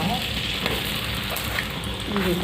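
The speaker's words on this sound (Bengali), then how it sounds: "এদিকে আমি পরোটাটা সেঁকতে দিয়েছি" A paratha fries in a pan with a little oil, producing a steady low crackling sizzle that stays close and even throughout, with a faint voice underneath at moments.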